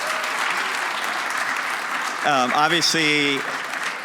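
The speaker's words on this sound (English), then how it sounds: "Huge round of applause." An audience applauds the board of directors at a closing music summit town hall, a sustained wash of clapping throughout, with a voice speaking over it near the end.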